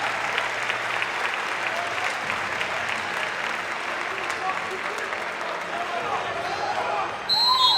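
A basketball crowd in a college gym applauds steadily as an injured player gets back up on his own, sustained clapping that holds level for several seconds with some cheering near the end.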